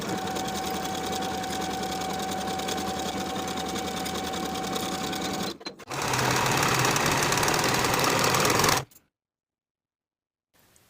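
Sewing machine stitching the center seam of a jumper with a half-inch seam allowance, a steady continuous motor whir with one brief pause and a louder second run, then it stops into silence.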